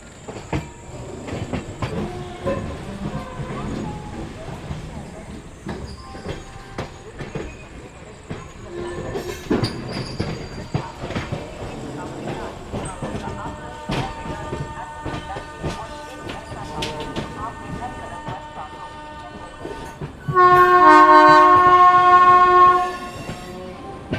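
An Amrit Bharat Express running between Rohtak and Kamakhya rumbles and clatters steadily as it nears Delhi railway station, then sounds a loud, sustained horn blast for about three seconds near the end.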